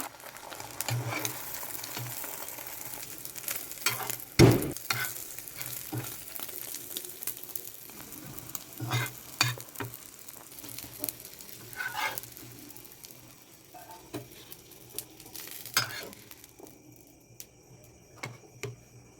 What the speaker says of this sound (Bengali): একটা ডিম পেঁয়াজ কাঁচা লঙ্কা দিয়ে রেখেছিলাম ফাটিয়ে এটা ভেজে দিলাম